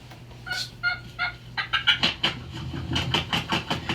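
Several turkeys gobbling in rapid rattling bursts, overlapping calls from a flock at moderate distance, loud and repeated throughout.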